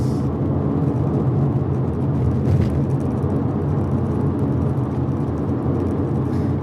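A Nissan Skyline V35 coupe's engine drones steadily from inside the cabin, a low constant hum of manual-transmission driving with a brief shift in tone partway through as it changes into fourth gear.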